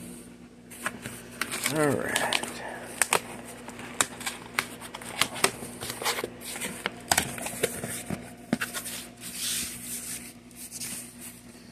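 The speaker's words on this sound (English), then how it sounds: "I'm using some scissors." Crisp scissor snips and crinkling plastic packaging as a Sicce Seachem Tidal 110 aquarium filter is unboxed, irregular cuts and rustles close by, with a voice speaking briefly.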